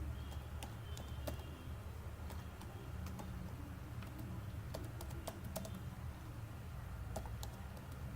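Keys tapped on a computer keyboard while Java lambda code is typed, scattered faint clicks over a steady low background hum, no voices.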